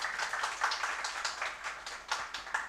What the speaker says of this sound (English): can we please give a huge round of applause to Soeba?